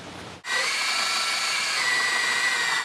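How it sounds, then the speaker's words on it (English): A power drill boring a hole into the side of a wooden fence post, starting abruptly after a short quiet moment and whining steadily and loudly to the end. "Now we're gonna drill a hole in the side of the post so we have some place to slide the latch."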